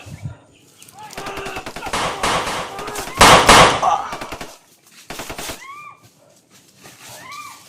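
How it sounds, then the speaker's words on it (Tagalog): Bursts of gunfire crack and rattle in rapid volleys, loud and close, with a heavy barrage in the middle and scattered shots before and after, mixed with faint whistling tones and distant voices. "Narinig mo lang ang putukan."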